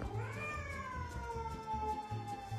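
A kitten gives one long, drawn-out meow with a rising then slowly falling pitch, close and clear against faint background noise and low thumps.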